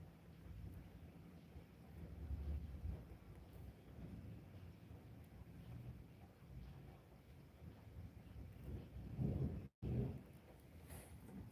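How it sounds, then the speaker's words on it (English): Loud thunder rumbles low and long through a steady wash of rain and wind, swelling and fading over several seconds with a brief cut near the end. "Dude, that's some loud thunder, yo."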